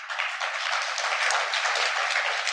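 Brief, even applause from a group, steady clapping with no voices.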